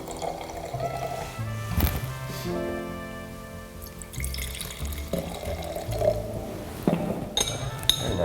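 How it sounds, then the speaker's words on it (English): 2016 Pinot poured into a wine glass in a winery barrel room, liquid gurgling and glassy clinks with ringing tones, close and moderately loud, with brief background voices. "Get some of the 2016 Pinot in your glass."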